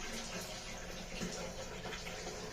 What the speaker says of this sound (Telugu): ఇక వాటర్ని తీసేస్తాము